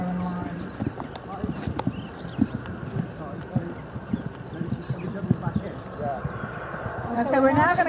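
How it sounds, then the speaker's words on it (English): Hooves clip-clop steadily on the ground at an eventing show jumping arena as a horse leaves the ring, with people talking throughout and a rise of wind or crowd noise near the end. "the other horse comes out of the show jumping arena"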